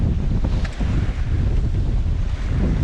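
Strong wind buffets the microphone aboard a sailing boat in rough, choppy sea in Finistère with about 15 knots of wind, a dense continuous roar of gusts and splashing water, loud and close.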